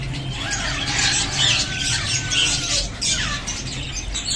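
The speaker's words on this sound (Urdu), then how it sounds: "یہ بھی کنری پیئر ہے جو کہ ایک دوسرے کو" A pair of canaries in a Quetta bird market, bright chirps and squeaky calls coming in quick bursts over a busy background hum.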